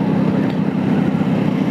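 A Hero Passion Pro motorbike carrying three riders hums steadily in fourth gear on a road past rubber plantations, its low engine drone and wind rumble continuous and even.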